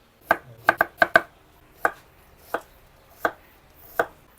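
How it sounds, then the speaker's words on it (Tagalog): A knife thinly slices onion on a cutting board: crisp, close taps come first in a quick cluster, then slow to sparse single cuts, with a quiet background. "玉ねぎを薄切りにして"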